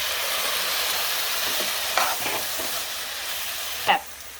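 Crushed ginger and chopped tomato frying in a pan for North Indian butter chicken, a steady close sizzle with a few soft stirring scrapes and a sharper clatter near the end.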